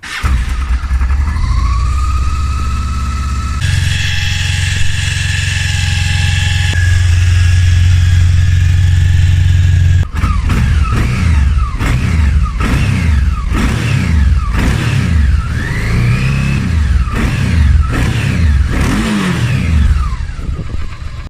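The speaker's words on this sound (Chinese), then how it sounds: "我们顺便听一下发动机声浪" A Honda CRF1100 Africa Twin parallel-twin motorcycle engine idles with a steady drone, then revs repeatedly in sharp bursts, loud and close, the pitch climbing and dropping with each throttle blip.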